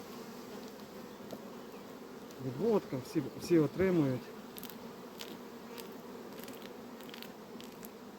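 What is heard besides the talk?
honey bees buzzing around beehives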